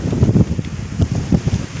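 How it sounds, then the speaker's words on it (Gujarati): Loud, gusty wind buffeting close by in rough bursts, with a low rumble throughout. "ગજબનો પવન નીકળ્યો છે મિત્રો"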